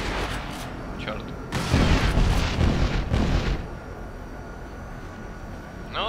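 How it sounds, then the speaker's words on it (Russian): Machine gun fire and explosions from the video game Crysis come as a dense, booming burst in the middle of the clip, set over a steady rumble of ambient noise. "По-моему, там был пулемет."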